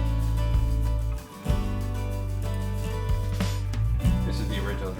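Original programmed drum kit in Logic for the song, a heavy, steady groove with deep kick thumps and crisp hits forming a continuous loud rhythm.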